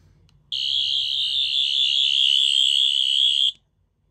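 Rubbertoe Replicas 10th Doctor sonic screwdriver replica sounding off, one loud, sustained high-pitched electronic whine with a slight warble that starts abruptly, holds for about three seconds and cuts off sharply.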